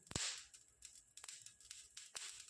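Coarse salt dry-roasting in a pan gives off a few sharp, scattered pops and crackles, faint and close, with no talking over them.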